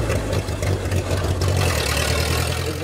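The engine of a 92-year-old vintage fire truck, once in service with the West Bend Fire Department, rumbles loudly and deeply in a steady idle with slight throbbing pulses, close and alone.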